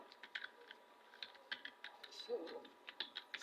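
Quick bursts of clicking on a computer keyboard as a code comment is typed in Excel's VBA editor, close and fairly quiet, with brief pauses between keystroke runs.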